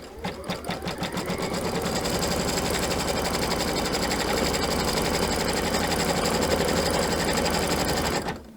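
A sewing machine stitches fabric for a pinwheel patriotic quilt block pillow, starting with a few quick pulses and then running in a steady, close, continuous whir for several seconds, with no talking.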